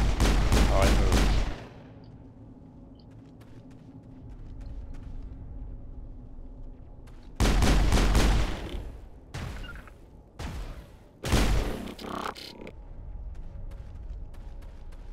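Pistol gunfire in the Mass Effect video game, a few loud sharp bursts separated by quieter stretches of ambient game hum, with faint talk in between.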